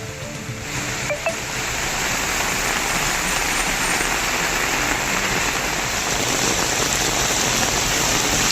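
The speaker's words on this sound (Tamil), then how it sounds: "ஆண்டிப்பட்டி சுற்றுவட்டார பகுதிகளில் 2 மணி நேரம் கனமழை பெய்தது." Heavy rain pours steadily around Andipatti during a two-hour downpour, a dense, continuous hiss of drops on surfaces that swells slightly after the first seconds and holds loud and unbroken.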